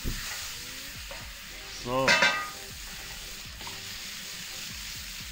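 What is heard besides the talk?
stir-fry ingredients sizzling in a lava pan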